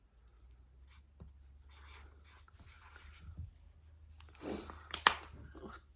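A pen scratches across paper in short, faint strokes during a quiet home word game, with soft rustles and a few light taps close by.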